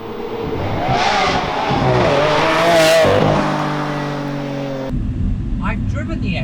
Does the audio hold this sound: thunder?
no